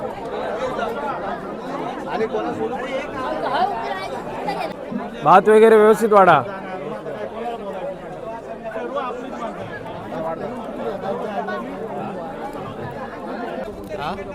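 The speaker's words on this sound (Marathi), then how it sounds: "भरपूर अशी प्रचंड गर्दी आहे." A large crowd chatters in a dense, steady hubbub at a Gangeshwar temple feast in Napne village as a communal meal is served, with nearby voices talking over the babble.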